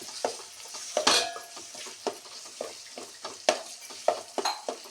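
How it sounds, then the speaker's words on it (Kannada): Raw jackfruit pieces fry in a pan, stirred with a utensil, producing a soft sizzle broken by repeated sharp scraping and clinking strokes in an irregular rhythm, close and fairly quiet. "ಒಂದು 2 ನಿಮಿಷ ಇಲ್ಲೇ ಫ್ರೈ ಆಗಲಿ"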